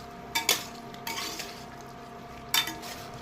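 A spoon stirring boiled chickpeas into chana masala in a pan over low flame, giving a few scraping clinks against the metal over a soft background hiss, close by.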